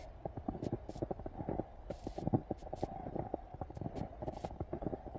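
Footsteps crunching through fresh snow during heavy snowfall in Seoul, a steady run of close, soft crackling steps with no talk over them.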